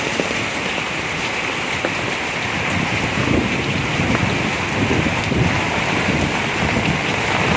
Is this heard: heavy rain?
yes